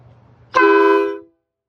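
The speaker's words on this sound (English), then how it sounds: "These are the new air horns we got." A Peterbilt 389 truck sounds its newly fitted air horn in one loud, close, sustained honk of under a second that cuts off sharply, following quiet background rumble.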